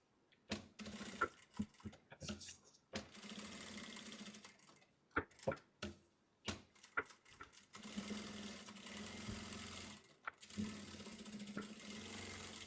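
A sewing machine runs close by, stitching a fabric cover for a spiral notebook in short stop-start bursts of rapid needle chatter, with a longer steady run near the end and quiet pauses between.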